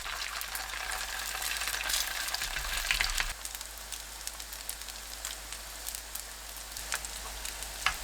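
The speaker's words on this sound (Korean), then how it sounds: "중약불로 낮추고 반죽 올려 구워줍니다." Mugwort pancake batter fries in preheated cooking oil over medium-low heat, a soft continuous crackling sizzle with a few faint scrapes and clicks near the pan, with no voices.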